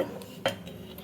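A spoonful of salt is scooped for a homemade kitchen-cleaning mix, giving one soft, brief clink of the spoon midway through a quiet moment, with no talking.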